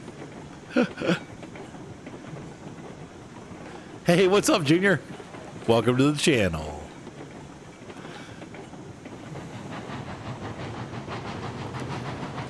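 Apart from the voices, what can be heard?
moving train rolling over a bridge in the video game Railroads Online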